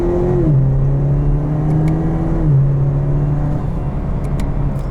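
A 2020 Chevrolet Camaro LS engine pulls hard under acceleration, its loud, steady drone climbing in pitch and twice dropping back as the gears shift, with no talking over it.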